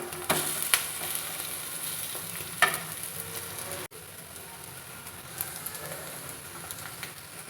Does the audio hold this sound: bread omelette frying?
yes